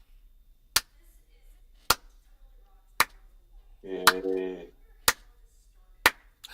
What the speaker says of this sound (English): Duck lip slow clap.